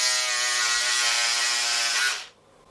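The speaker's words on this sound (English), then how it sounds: "I will go ahead and cut it out" Scissors cutting through fabric for a bubu dress: a steady, loud, continuous rasping snip lasting about two seconds, then stopping abruptly into near silence.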